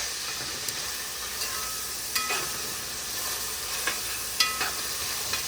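Tomato and onion sauté in hot cooking oil, giving a steady, even sizzle and hiss throughout with a few small pops and crackles. No one speaks.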